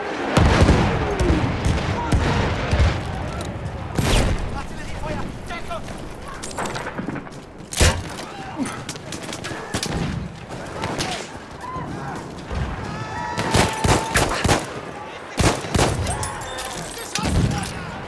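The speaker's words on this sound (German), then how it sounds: "Vorsicht, Jungs, Artillerie!" Artillery blasts and gunfire in the World War I shooter Battlefield 1, trench assault mode: repeated loud booming impacts and bursts of shots, some close and sharp, others distant, with voices calling out between the explosions.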